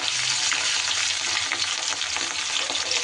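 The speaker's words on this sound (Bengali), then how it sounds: "এবার মাছগুলোকে ভেজে নেব।" Rohu fish pieces frying in hot oil in a pan, a dense, continuous loud sizzle with faint crackles, close up and steady throughout, no voices.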